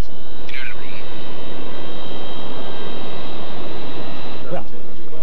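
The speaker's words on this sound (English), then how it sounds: "United 27, clear for takeoff." An airliner taking off: a loud, continuous engine roar with a high whine, and radio voices briefly heard over it.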